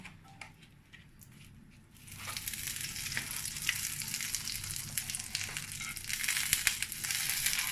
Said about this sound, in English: I'm going to add some unsalted butter to the pan.